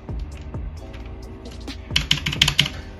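Rapid clicky keystrokes on a PICTEK TKL 60% mechanical keyboard with blue switches, close and crisp, a few scattered presses then a quick burst of typing at the end.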